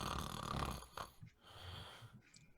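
A person imitates snoring with the voice, giving one long, rough, rattling inhale followed by a few softer wheezy breaths, close and alone.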